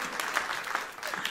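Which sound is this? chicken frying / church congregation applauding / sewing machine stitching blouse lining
church congregation applauding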